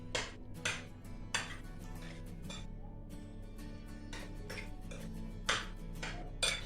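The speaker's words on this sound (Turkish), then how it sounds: "Üstüne ceviz dökeceğim." Crushed walnuts poured from a container onto oiled homemade egg noodles, giving a string of light, scattered clicks and clatters against the dish, fairly close, with no talking.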